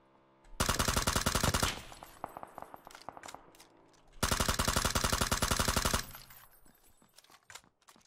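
Close, loud machine-gun bursts in PUBG on a new map, two long sustained volleys separated by scattered single shots and faint footsteps, ending in sparse isolated cracks.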